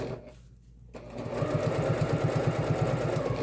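A sewing machine stitches through thick layers of fabric and stabilizer on a messenger bag. After a short pause the motor starts and runs with a fast, steady mechanical chatter, close and loud.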